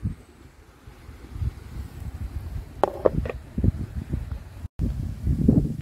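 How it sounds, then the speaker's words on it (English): Gusty wind on a hilltop by the Turon River buffets the microphone in uneven low rumbles, with a few brief higher noises partway through. "Sorry about the wind, guys. It's gotten real windy."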